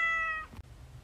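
A cat gives a single short, clear meow that trails off within half a second, followed by a faint thump and quiet room noise.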